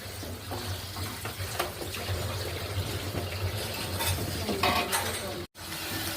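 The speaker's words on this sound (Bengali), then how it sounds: "এখন এই মশলাটাকে আমি সুন্দর করে কষিয়ে নিব কিছুক্ষণ" Onion paste masala sautés in a pan for an egg korma with mango, a moderate crackling sizzle mixed with stirring scrapes and a low hum, briefly cutting out near the end.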